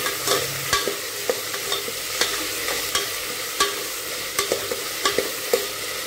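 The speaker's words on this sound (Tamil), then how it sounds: "போட்டுட்டு இதை நல்லா மிக்ஸ் பண்ணிக்கலாம்" Vegetables for veg salna sizzle steadily in a hot pan while a utensil stirs them, clinking against the pan every half second or so.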